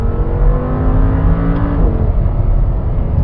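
The V10 engine of a 2014 Audi R8 revs while driving, a loud, steady, close engine roar with a rising tone that shifts partway through, heard without talk.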